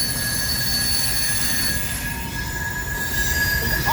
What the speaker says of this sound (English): Thank you for the horn show.